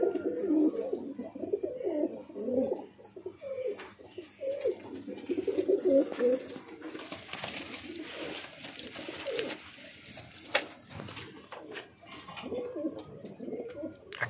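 Pigeons coo repeatedly in a loft or lot holding blue satinette pigeons, their soft throaty calls overlapping close by with rustling and fluttering, while faint background talk comes and goes.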